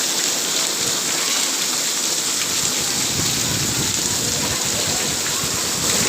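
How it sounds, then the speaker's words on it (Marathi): Heavy first-of-season monsoon rain pours down steadily in Ghatkopar, Mumbai, a dense continuous hiss of water hitting surfaces with no voices. "आमच्याकडे पाऊस पडत आहे हे बघा पाऊस"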